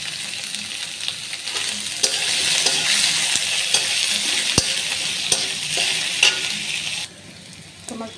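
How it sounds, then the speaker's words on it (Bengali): Chopped onions frying in a pan give a loud, dense sizzle broken by light ticks and scrapes of stirring, which drops away suddenly near the end. "এখন আমি পেঁয়াজ কুচি কেটে দিয়ে দেব।"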